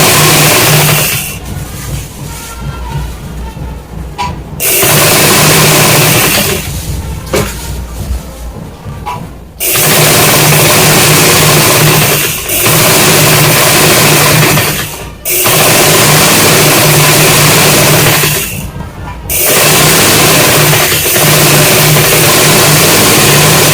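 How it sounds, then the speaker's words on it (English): A sewing machine stitches a two-pleat kaftan in long, loud, continuous runs, broken by a few short pauses and quieter stretches. "So I'm going to sew it down now."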